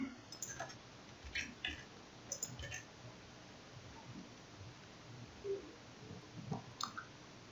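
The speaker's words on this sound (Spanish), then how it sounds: "Le damos clic aquí." Computer mouse clicks on a simulation of ideal-transformer circuits, a few faint scattered clicks over quiet room noise with no talking.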